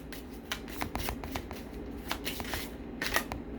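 A tarot card deck is shuffled close by in quick repeated riffling bursts, crisp papery flicks lasting several seconds with no talking.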